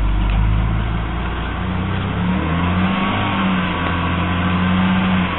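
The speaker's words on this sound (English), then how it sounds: "you can hear that lovely BMW engine note" A BMW engine held just above 1000 RPM, a steady, close, loud mid-pitched drone with a low rumble and no talking over it.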